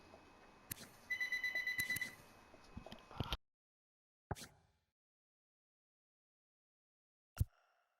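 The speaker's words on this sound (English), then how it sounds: "phone was ringing" A telephone rings with a short electronic trilling burst followed by scattered clicks and beeps. Long stretches of silence fall between the sounds, and the ringing comes through faint and close.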